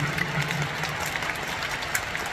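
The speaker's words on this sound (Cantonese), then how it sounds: "呢個掌聲係屬於佢哋嘅。" A crowd claps at a concert thank-you event at Kai Tak, a continuous, moderately distant wash of applause with scattered cheers rising above it.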